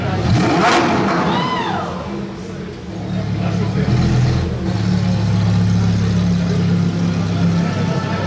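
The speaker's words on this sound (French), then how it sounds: "Juste un petit coup de gaz histoire de." A supercar engine gives a short throttle blip among a street gathering of exotic cars on the Gumball 3000 stop in Nice, with a loud rising rev, then a steady low engine drone under nearby chatter.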